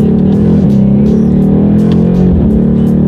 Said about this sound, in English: I'm actually going to put it in Sport Plus driving mode here, and let's test out the paddle shifters.